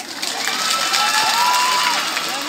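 A group in a magic show audience clapping and cheering together, loud and sustained, with children's shouts and whistles mixed into the crowd noise.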